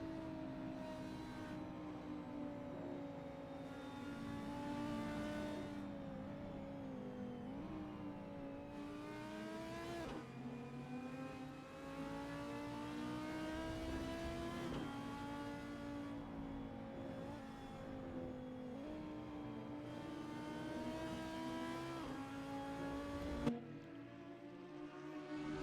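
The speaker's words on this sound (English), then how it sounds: "out of all the GT cars, the Audi and the Porsche do sound really nice" GT race cars in the Assetto Corsa video game, Audi and Porsche GT models at Oschersleben, rev up and shift repeatedly, engine pitch climbing and dropping through gear changes in a continuous, moderately loud racing drone without talk.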